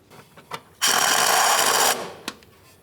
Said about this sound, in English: We'll get our bolt in there, snug it up.